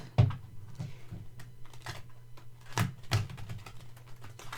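Soft, irregular papery flicks and taps of a deck of tarot cards being side-shuffled by hand, close up and quiet, with small pauses between bursts.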